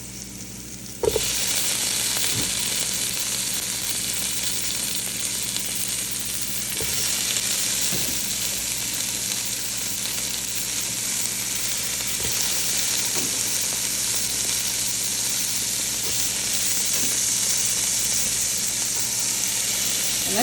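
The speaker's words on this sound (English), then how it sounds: "now I'm going to add my tomatoes in" Tomatoes added to a hot frying pan set off a loud, steady sizzle that starts abruptly and hisses on without a break, with a few faint utensil scrapes along the way.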